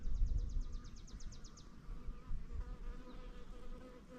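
A single honeybee buzzes close by as it feeds on honey, giving a steady whine with a brief pulsing flutter near the start and low handling noise beneath, with no voices.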